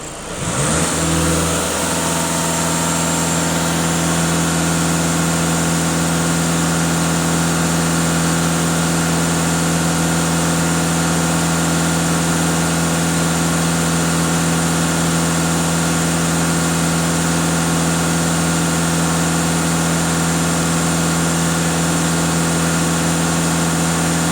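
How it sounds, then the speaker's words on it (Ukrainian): A VW Tiguan 2.0 TDI diesel engine held at a steady 2500 rpm, a loud continuous drone that stays level from start to finish with no talking. "Даю газ в пол 2500 обертів."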